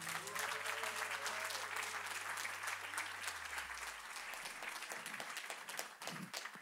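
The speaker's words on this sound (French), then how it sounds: "Ce n'est pas les êtres humains qu'on applaudit" A church congregation applauds during a worship service, steady broadband clapping that fills the whole stretch at moderate level, with a low sustained musical tone fading out partway through.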